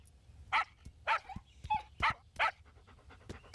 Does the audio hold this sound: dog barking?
yes